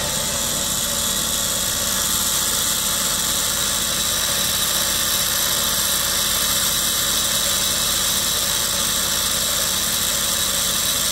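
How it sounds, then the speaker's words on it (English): A handheld Dremel rotary tool spinning a north-south magnet for a magnetic levitation setup gives a steady, loud, high-pitched motor whine with constant vibration, unbroken for the whole stretch and with no talking. "we have this Dremel with a rotating NS magnet"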